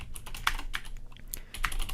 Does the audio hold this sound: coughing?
no